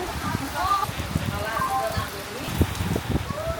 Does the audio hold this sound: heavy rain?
yes